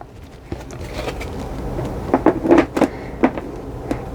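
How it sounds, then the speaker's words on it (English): A lid goes onto a Resiners resin curing machine with a quick cluster of sharp plastic clunks and knocks in the middle, then a couple of softer taps, all over a quiet room background. "We are gonna put this lid on."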